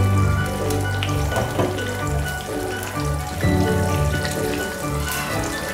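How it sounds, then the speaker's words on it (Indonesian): Water heating in a pot on a home stove, a steady bubbling, hissing wash that fills the kitchen at fairly loud level without pause. "Di sini adalah saya merebus air untuk membuat saya rebus."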